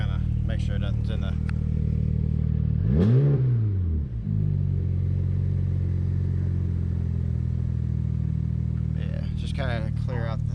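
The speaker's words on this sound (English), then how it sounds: "I might give her a little rev real quick" A BMW 335 with the N54 engine idles with a steady, deep hum, then revs once in a quick rising and falling swell before settling back to idle. There is faint talking near the start and end.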